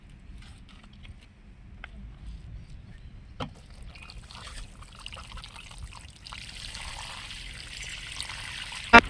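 A steady trickle of water pours close by onto a potted lotus plant, growing a little fuller toward the end, with a soft clunk partway through.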